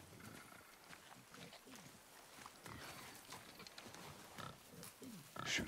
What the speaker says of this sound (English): Sounds like a boar.